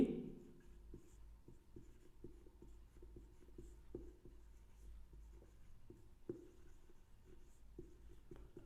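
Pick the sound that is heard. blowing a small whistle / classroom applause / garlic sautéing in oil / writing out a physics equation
writing out a physics equation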